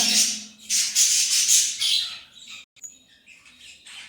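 Harsh, shrill squawks of caged birds in loud overlapping bursts, close by, fading into softer chirps and rustling toward the end.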